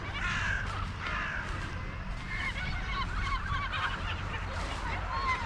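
Birds feeding in a field near heavy traffic give loud, repeated crow-like caws and honking calls throughout, close by and overlapping over a steady rumbling background.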